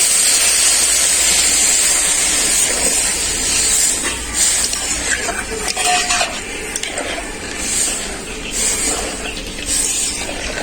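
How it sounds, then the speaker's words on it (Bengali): Water is poured into a pan of lightly fried, soaked and drained lentils, set to boil for a three-dal fish-head curry, giving a loud continuous hiss and steam rush with occasional clinks of a pan and a stirring spoon. "তো ডালটা আমার হালকা করে ভাজা হয়ে গেছে। এরপর জল দিয়ে দেবো সেদ্ধ করার জন্য।"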